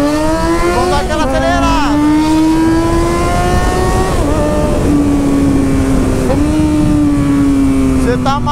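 A Yamaha XJ6 motorcycle accelerates hard while being ridden, its engine loud and close with a steady droning whine that climbs, dips at three quick gear shifts and climbs again, over constant rushing wind noise.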